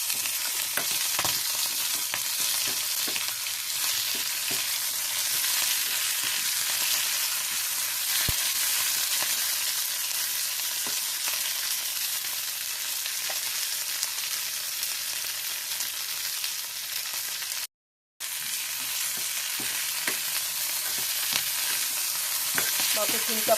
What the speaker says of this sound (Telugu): వీటిని వేపుకోవాలి.